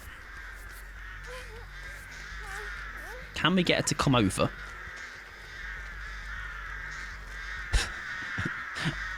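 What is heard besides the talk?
crows cawing in a video game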